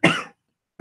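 A single harsh cough, followed by a brief silence and the start of another cough.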